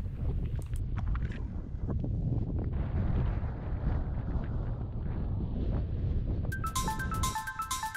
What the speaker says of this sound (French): Au sommet, le vent souffle, à peine 11 degrés.